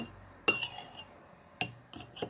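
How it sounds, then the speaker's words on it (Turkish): A metal fork clinks sharply against a glass while stirring, three or four bright separate taps spaced irregularly in a quiet room. "Elimi pisletmek istemediğim için çatalla yapıyorum"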